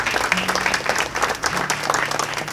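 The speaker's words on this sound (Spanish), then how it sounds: "Yo solicito con todo respeto y consideración un fuerte aplauso que retumbe desde la Plaza de la Trinidad hasta el Caribe" A crowd in Getsemaní, Cartagena, applauds with loud, dense clapping that rolls on steadily through the whole moment, close and continuous.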